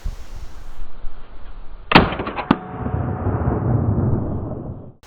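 An XM177 CAR-15 rifle fires two sharp, loud shots close together, the taped muzzle bursting open, followed by a lingering rumbling echo that slowly fades.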